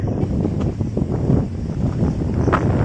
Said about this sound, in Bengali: বাপরে, সরসর করে কি হাওয়া দিচ্ছে গাছে।